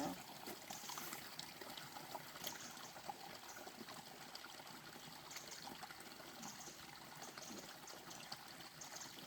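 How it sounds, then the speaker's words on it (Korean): Steady, soft rushing of a mountain forest stream flowing over rocks, continuous and even throughout, with no voices. "물소리 자체가 여러분들의 가슴을 아마 치유해주는 역할을 하고 있을 거예요"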